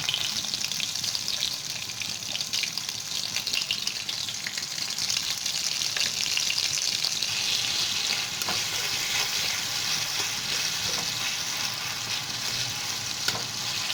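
Halved tomatoes with a little salt fry in a pan, giving a loud, continuous hissing sizzle that holds steady throughout with no talking.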